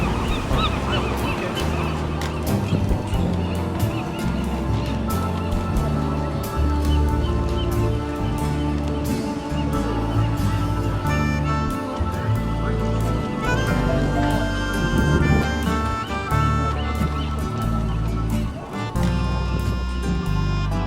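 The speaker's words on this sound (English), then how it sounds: "You can hear the caws of the seagulls." Gulls call repeatedly over a busy, steady din of music and crowd noise along the San Francisco waterfront near Fisherman's Wharf, the cries partly buried in the dense background.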